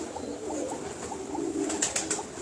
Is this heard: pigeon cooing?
yes